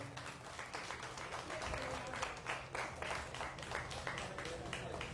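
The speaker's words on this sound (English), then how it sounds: "Let's give her a nice round of applause there." Faint, distant applause from a modest crowd at a dairy and pygmy goat show, thin scattered clapping with a low background rumble, no voices standing out.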